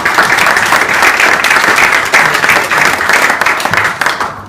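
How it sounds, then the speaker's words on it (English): Audience at a cryptocurrency launch event applauds loudly and steadily, a dense wash of many hands clapping that holds for several seconds before fading slightly at the end. "Big applause to Steve again."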